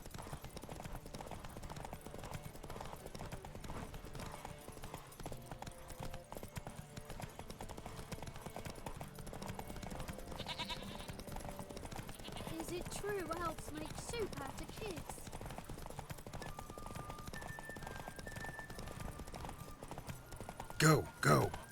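Hooves of Roach, a horse in the video game Witcher 3, beat a steady galloping clip-clop, moderately faint under someone talking almost throughout.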